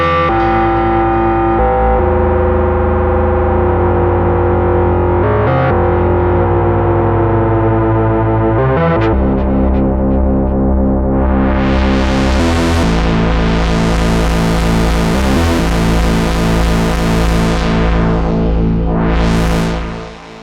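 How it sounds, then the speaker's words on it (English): A Midimini V30 synthesizer's oscillator 1 with ring modulation: a loud, buzzy tone with metallic, clangorous overtones, droning steadily while sweeping filter swells rise and fall in the upper range. "So that is oscillator 1 and a bit of ring mod."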